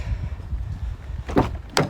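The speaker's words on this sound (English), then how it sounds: "Oh, passenger door opens." A worn Ford Puma 1.7 with some rust, its passenger car door opening, with two sharp metallic clicks and clunks of the latch and hinge standing out near the end over a low rumbling background.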